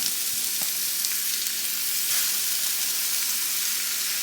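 Turkey burgers sizzle steadily in a pan over medium-high heat, a dense continuous frying hiss heard up close with a few faint clinks underneath.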